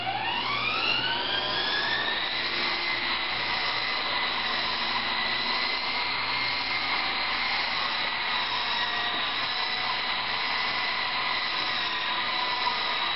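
A small toy helicopter whirs steadily with its spinning blades, a continuous high-pitched rotor and motor drone holding loud and close throughout, with no talking.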